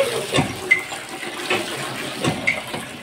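Water poured out in a few short splashing bursts, used to bathe flowers, close by with no voices.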